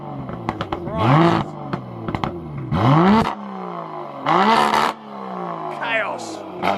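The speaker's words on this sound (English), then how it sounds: "So this car has an aftermarket exhaust on it, so we're just gonna give it some revs" An Aston Martin DBS Superleggera with an aftermarket exhaust revs hard in several sharp bursts, each engine roar climbing and then dropping away, loud and close, with people talking between the revs.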